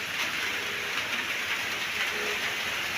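Heavy rain falls in a steady, dense hiss that stays constant throughout, with no voices.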